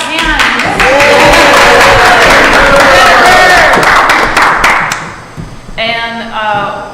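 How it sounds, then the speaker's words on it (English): An audience at a Cobb Area Council meeting claps together as a dense, sustained wash of applause that fills most of the moment, then thins out. Speech and a few scattered voices come through at the end. "Now we can like clap hands."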